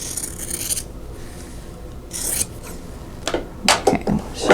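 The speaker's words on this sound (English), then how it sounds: "I'm going to cut along the drawn line, and I'll have a total of 4 half square triangles." Scissors or a cutter slicing through quilting fabric along a marked line, giving short rasping scrapes and snips in bursts, close up and moderately loud with no talking.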